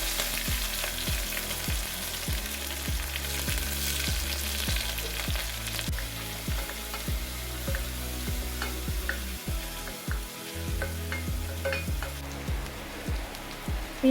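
Onions, curry leaves and mustard seeds sautéing in hot oil, a continuous close crackling sizzle with repeated quick popping spatters and occasional stirring throughout.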